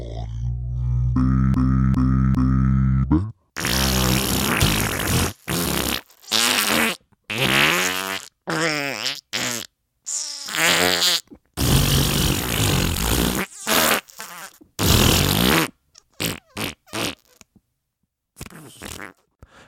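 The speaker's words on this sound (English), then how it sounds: "I just farted." A long stretch of loud, buzzy, sputtering fart noises in bursts of varying length, some stuttering and some drawn out, separated by short gaps, close and without talk.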